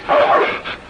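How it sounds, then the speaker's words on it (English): A dog gives one short, close bark with a whiny edge, followed by a brief softer yip, heard in a 1948 Western film scene. "That's a dog."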